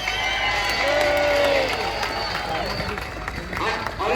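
Crowd cheering and applause at an outdoor protest in Dublin, a dense roar of voices and claps filling the whole stretch, with a whistle-like tone rising briefly above the noise.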